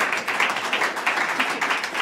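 Small studio audience at a live radio session clapping steadily and briskly at close range, a short burst of dense applause with no voices over it.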